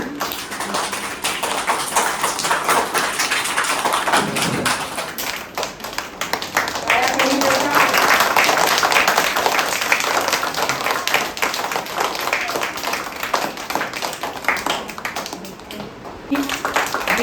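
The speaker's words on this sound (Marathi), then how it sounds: "जोरदार टाळ्या वाजवून सर्वांनी" Audience at a school birthday celebration in Pale applauds loudly and steadily for the whole stretch, with dense claps filling the room and some talk and background noise mixed in.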